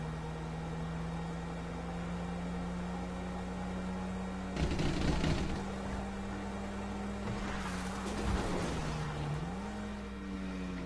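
Car engine in Grand Theft Auto V droning steadily as it climbs a hill, its pitch holding level then dipping and rising near the end, with bursts of broadband rumble and crunching noise partway through; no talking.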